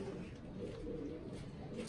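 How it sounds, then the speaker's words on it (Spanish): Pigeons coo in low, soft, murmuring calls, seen by a window on a trip to Cuba, faint and steady against a background hum. "Bueno, mira las palomas."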